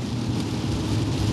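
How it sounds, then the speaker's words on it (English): Rain drums on the windshield of a car during a storm, a loud, dense, steady patter heard from inside the vehicle over a low rumble. "Can you hear the rain hitting the windshield?"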